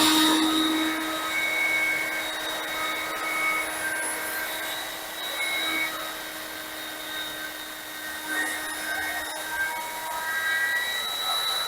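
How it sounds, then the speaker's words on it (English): A handheld router cuts a radius corner into a square-edge countertop board on a shallow quarter-inch pass, giving a steady, high-pitched motor whine with a constant drone that rises and dips slightly as it moves. "I've got my router set at the first stop, which is basically 1/4 of an inch deep."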